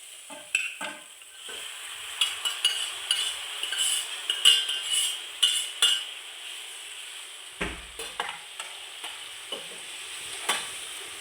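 Cooked beef tipped into a pan of garlic masala paste and stirred, with repeated metal spoon scrapes and knocks against the pan over a steady close sizzle, no talking.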